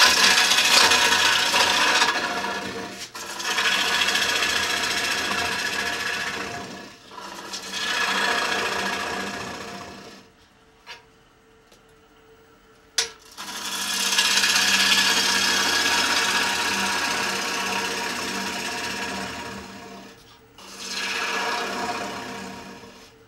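A gouge cuts a wood bowl on an electric lathe, a steady rasping scrape in long sustained passes that stop and restart, with short quiet gaps and brief clicks between cuts.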